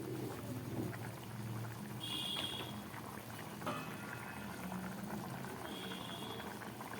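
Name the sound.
ghugni boiling in a pot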